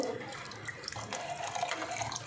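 Water splashes steadily into tamarind liquid for sambar, a short continuous pour close by with no talking.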